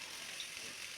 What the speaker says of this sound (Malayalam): ഉപ്പിടാത്ത സവാള പെട്ടെന്ന് വഴറ്റി കിട്ടും.